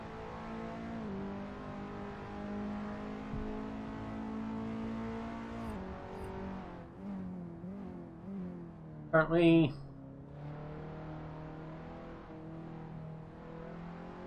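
Skip Barber race cars lapping the Jerez circuit in Assetto Corsa, a steady engine drone with shifting pitch and a brief louder burst near the end, under continuous commentary.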